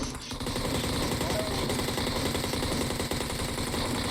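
Rapid automatic gunfire spraying in PUBG Mobile, a dense, continuous stream of shots with engine-like rumble underneath, loud and steady for the whole stretch.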